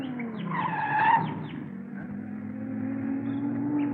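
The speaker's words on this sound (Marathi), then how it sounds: "गाडी पिकअप का घेत नाही?" A car engine revving and straining, failing to pick up speed, with rising and falling whines and tire-like squeals over a steady engine drone.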